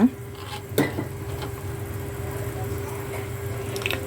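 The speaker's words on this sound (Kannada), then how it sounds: "ಇದನ್ನು ಕೆಂಪು ಹುರ್ಕೊಳ್ಬೇಕು. ಇನ್ನೊಂದು ಸ್ವಲ್ಪ ತುಪ್ಪ ಹಾಕ್ಕೊಳ್ಳೋಣ." Ingredients roast in ghee in a pan while being stirred, a soft continuous sizzle with a couple of sharper spoon knocks against the pan near the start, close and without talk.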